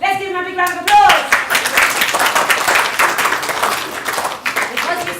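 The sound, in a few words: audience applause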